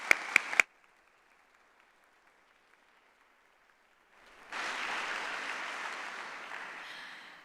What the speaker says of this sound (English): please take a moment to give yourself a round of applause and also for your peers